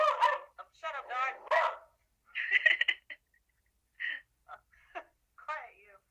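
A dog indoors gives a handful of short, sharp barks and yips, spaced apart after a stretch of a person talking.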